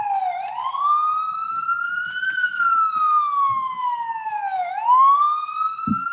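Loud wailing ambulance siren rising and falling in long sweeps as it passes close by on a New York City street, with faint background noises and a brief thump near the end.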